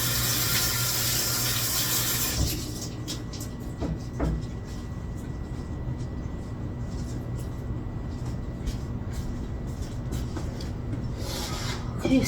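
Something being rinsed under a running kitchen tap while preparing turkey burgers, a steady broadband wash of water lasting throughout after a brief louder start, with faint clinks and rubbing underneath.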